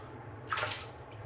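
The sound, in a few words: water being added to shaving soap lather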